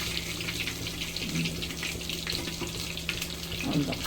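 Prawns fry in a pan with a continuous, close sizzle. A few louder spatters and stirring scrapes stand out, and brief background voices come and go.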